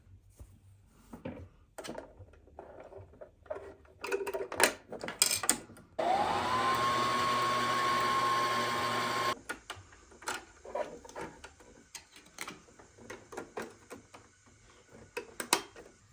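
A sewing machine stitching a rope bowl runs in one steady whirring burst of about three seconds, between stretches of scattered clicks and handling noises.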